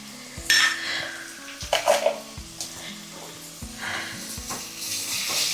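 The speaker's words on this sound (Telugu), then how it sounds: "ఎర్రగడ్డ ఆయిల్లోనే ఎర్రగడ్డ వేయించుకోవాలి" Onions fry in oil in a pan, with a crackling sizzle broken by spatula scrapes and clinks of the metal pan, several bursts close and loud over a quieter steady hiss.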